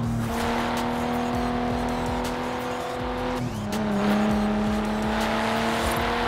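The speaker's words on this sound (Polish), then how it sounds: "To jest standardowy silnik." A stock-engined Nissan Skyline R34 in Forza Horizon 4 drones steadily and loudly throughout, with sustained engine tones that shift pitch midway as the car changes gear or speed, with no talk over it.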